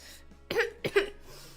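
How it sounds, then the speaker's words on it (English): Two quick, close coughs in a row, a short harsh burst followed by a second with a double pulse, in a quiet room. "I've been coughing"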